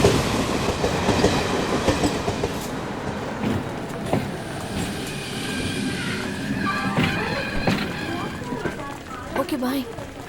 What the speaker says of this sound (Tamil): எது ட்ரெயின் வந்துச்சு.